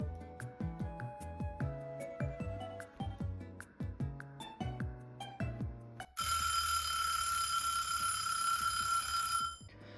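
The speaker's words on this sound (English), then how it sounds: "Once your timer has gone off," A kitchen timer goes off while bread dough rests, a steady, bright ringing tone lasting about three seconds that follows soft melodic music.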